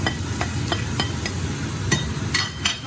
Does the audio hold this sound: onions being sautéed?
yes